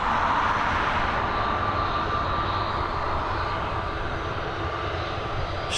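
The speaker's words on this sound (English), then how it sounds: "Straight back into the action here with the Airbus A320, I believe." An Airbus A320neo jet at Dublin Airport produces a steady, loud engine roar with a broad rushing whine, holding constant throughout without any talk.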